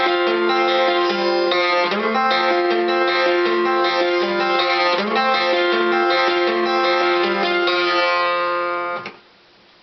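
Acoustic guitar plays three bars, a steady fingerpicked pattern with ringing bass notes and an extra top-string note, loud and close, stopping just before the end.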